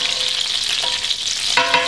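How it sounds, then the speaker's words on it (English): Garlic sizzles hard in hot butter mixed with extra virgin olive oil and bacon grease, a loud, steady frying hiss with brief stirring scrapes near the end. "It's going to sizzle, this is going to be hot"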